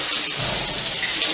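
Shower water runs steadily in a movie bathroom scene, a continuous broadband hiss of spray filling the whole moment at fairly close range with no pauses.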